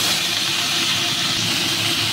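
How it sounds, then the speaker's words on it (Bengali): Pumpkin greens tossed into potatoes already fried until reddish, giving a steady, loud broadband hiss of oil sizzling close up with no pauses. "এবার আমি শাকটা দিয়ে নিচ্ছি।"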